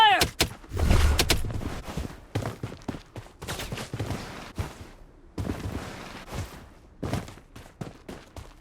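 Gunfire in the video game Blood Strike, with bursts of loud shots and rapid volleys scattered across the stretch, some close and sharp, others in quicker rattling runs.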